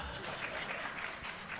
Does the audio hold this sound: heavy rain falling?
no